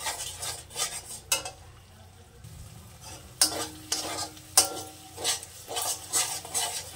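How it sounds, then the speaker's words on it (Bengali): Masala paste for a potato and paneer curry is stir-fried in a pan, with a soft sizzle under brisk scraping strokes that come in bursts, separated by short quieter pauses. "আবার একটু সুন্দর করে কষে নেব।"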